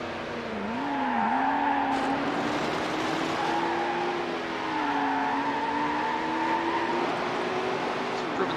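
Race cars roar in Need For Speed Hot Pursuit 2 during a championship event against a Ferrari F50, Viper and 911 Turbo, engine tone rising and falling steadily with brief tyre skids, quietly mixed.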